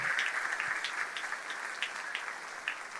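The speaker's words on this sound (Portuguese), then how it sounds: "Você pode aplaudir o Senhor?" A church congregation applauds during a sermon, a steady, moderately quiet patter of many hands with occasional sharper claps and no voices.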